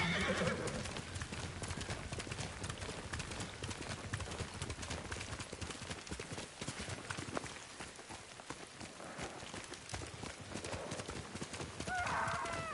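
Horse hooves clip-clop in a fast, steady gallop in the Ghost of Tsushima video game, loud and close, with a whinny at the start and again near the end.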